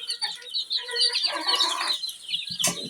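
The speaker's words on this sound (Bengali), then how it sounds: "আর এটা হচ্ছে ফার্মি মুরগির বাচ্চা" Farm broiler chickens clucking and chirping nearby in a small flock, a few overlapping short calls, loud and close, with no talk.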